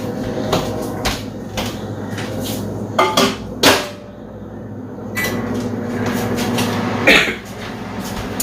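A dish is put into a kitchen microwave: a series of clunks and knocks as the door and dish are handled, with a few sharper bangs among quieter rattling.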